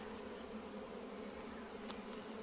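Faint, continuous droning hum of a honeybee swarm around a hive and tree trunk, steady throughout with a brief higher chirp near the end and no speech.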